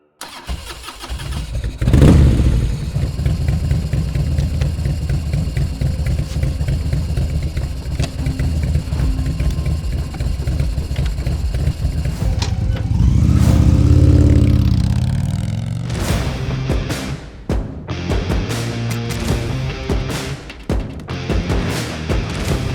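An Indian Chieftain motorcycle with the Power Plus V-twin engine starts and runs loud and close, settling into a steady rumble, swelling into a rev, then dropping back with a few more blips.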